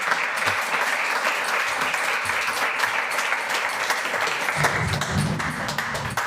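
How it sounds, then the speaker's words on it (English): Audience applause at a podcast's 200th-episode live event, a dense, steady wash of many hands clapping that fills the whole stretch at close range with no talk over it. "Please give a round of applause for Mr."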